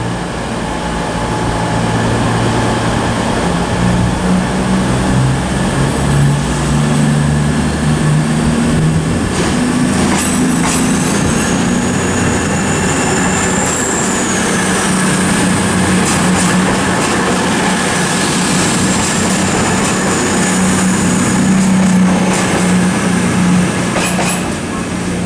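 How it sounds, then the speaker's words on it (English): CrossCountry train 220024 pulls out of Plymouth station on a service to Edinburgh, a loud, close, sustained diesel engine drone rising as it departs, with a faint brake or wheel squeal and a few brief clanks. "the 1425 cross-country service to Edinburgh, which is 220024, now on its way out again after terminating from Newcastle earlier in this video"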